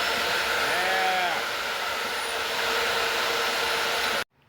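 A floor sander's vacuum runs as a loud, steady broadband whoosh with a constant whine, cutting off abruptly near the end, while a brief rising-falling tonal sweep passes early on.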